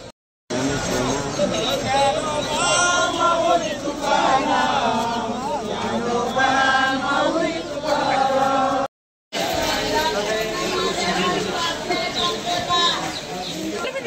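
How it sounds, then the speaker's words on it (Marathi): Dense crowd of pilgrims at a Kartiki Ekadashi town procession, a continuous loud babble of many voices with shouts and chatter filling the clip, briefly cut off near the end before resuming. "गर्दी खूप आहे"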